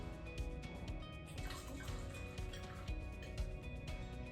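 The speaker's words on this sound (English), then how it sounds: "do some pours" Giardino Pinot Grigio rosé wine is poured into a glass, a soft trickling with light drips, faint against a steady background hum, with no talking.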